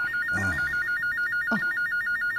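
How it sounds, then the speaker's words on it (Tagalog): Telephone ringing indoors in a living room, a steady electronic warbling trill repeating throughout, loud and close, with brief voice sounds over it. "Ang telepono sa sala."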